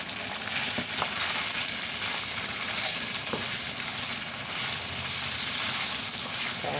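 Rice sizzling and frying steadily in a hot pan for a vegan butter chicken dish, a continuous close crackle and hiss with faint stirring scrapes and no talk.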